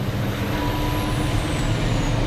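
An onboard MAN race truck at Thruxton circuit, its engine droning loud and steady at close range with a rough, gritty roar and a faint high whine gliding down, with no voices.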